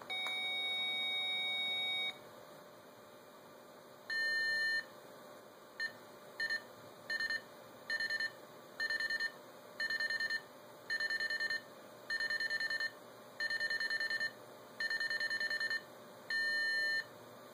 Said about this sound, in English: Number 8 is an AC1 dial pulse sequence with a seizure and, a clear forward and a seizure included at the beginning.